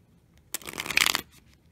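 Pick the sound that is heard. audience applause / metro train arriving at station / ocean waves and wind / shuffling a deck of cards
shuffling a deck of cards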